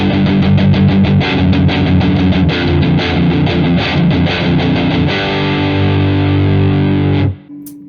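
A heavily overdriven electric guitar played through a Boss OD-3 overdrive pedal plays thick, gritty chords for about seven seconds, then cuts off abruptly into near silence.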